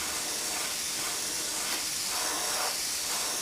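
An airbrush sprays paint onto a scale model, producing a close, continuous hiss of air and paint that swells gently in waves, heard alone.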